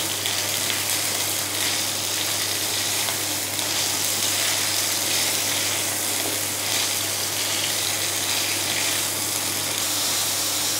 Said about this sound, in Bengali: এবার ভেন্ডিটাকে ভেজে নেবো।